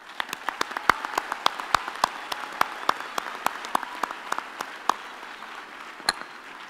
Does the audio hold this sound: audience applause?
yes